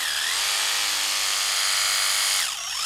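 A battery-powered pressure washer spraying soap gives a steady high-pitched motor whine with a hissing spray, dipping and recovering in pitch briefly near the end, with no talking.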